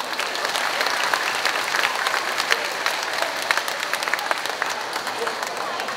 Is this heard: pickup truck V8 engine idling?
no